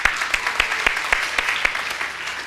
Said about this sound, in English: Everyone, a round of applause for Don Santiago.